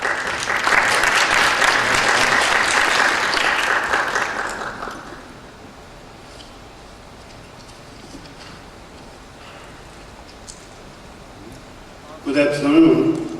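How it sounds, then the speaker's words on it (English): Audience applause at an academic trade conference, a warm round of clapping that swells loud for about five seconds then fades, followed by quiet room tone and a brief burst of noise near the end. "Please welcome him with a warm round of applause."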